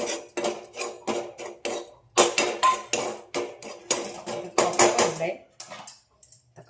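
Roasted semolina scraped and tipped from a hot pan onto a steel plate, a run of repeated metallic scrapes and clinks in an uneven rhythm, close and fairly loud in a home kitchen.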